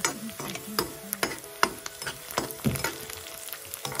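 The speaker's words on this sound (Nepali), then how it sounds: "पहिला चाहिँ हामी प्याजलाई रातो हुने गरी टक्क फ्लेममा चाहिँ भुट्छौँ" Chopped onions fry over a high flame in a pan, browning toward red for a meat gravy: a continuous loud sizzle punctuated by regular clanks and scrapes of a spoon stirring against the metal, no voices.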